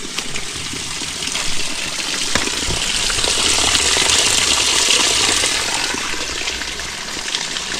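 A small mountain stream in Linville Gorge runs with a steady, loud rushing and splashing close by, broadband and continuous without any talking.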